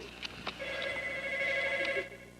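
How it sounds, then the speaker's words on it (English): A telephone rings with a steady electronic double tone lasting most of the moment, fairly close and clear, with a few faint clicks before it starts and no talking over it. "Oh, the phone's ringing."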